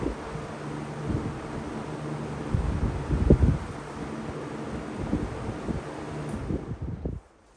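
A 1980s box fan from Eastern, Edison or Lakewood runs on high speed, giving a steady, fairly loud broadband whoosh of moving air with a low hum and faint thumps, until it cuts off abruptly near the end.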